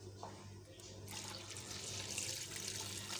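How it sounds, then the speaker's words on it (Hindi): Water pours steadily into a cooking pot of goat trotters with turmeric, starting softly and swelling into a fuller splashing rush, close by with no talking. "अब मैं इसके अंदर पानी डाल दूंगी।"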